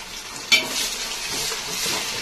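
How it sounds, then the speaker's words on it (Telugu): Ginger garlic paste hits hot oil with golden-brown onions in a pan for mutton biryani, giving a sharp clatter followed by a steady close sizzle and stirring. "ఎర్రగడ్డలు బాగా గోల్డెన్ బ్రౌన్ కలర్ లో వచ్చిన తర్వాత అల్లం వెల్లుల్లి పేస్ట్"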